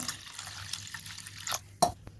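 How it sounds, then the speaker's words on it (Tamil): Water is added to a pot of rasam in a home kitchen: a couple of brief, close pouring splashes and drips stand out over a quiet background with no talking. "இது கூட கொஞ்சம் தண்ணி சேர்த்துப்போம்"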